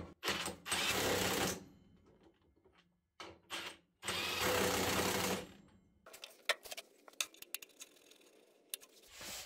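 A Parkside Performance PASSP 20 Li cordless impact wrench set to 1000 Nm hammers screws tight in two loud, sustained bursts of rapid impacts, followed by scattered clicks and handling noises.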